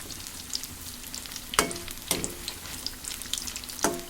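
Raw banana fritters (bajji) frying in shallow oil in a pan, giving a steady close sizzle with a few sharp clatters as pieces are turned, and no talking.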